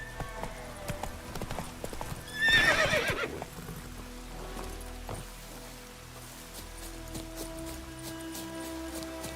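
Roach, the horse from The Witcher 3, gallops in a steady clip-clop of hooves with a loud whinny partway through, set against a faint rainy background.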